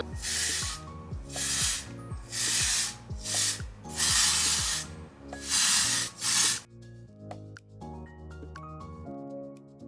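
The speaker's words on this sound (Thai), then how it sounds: "เราจะใช้สเปรย์ของตัวนี้นะคะ เป็น volumizing spray ค่ะ" Volumizing hair spray hisses out in several loud, bright bursts of about a second each, followed by quieter rustling of hair and product after the spraying stops.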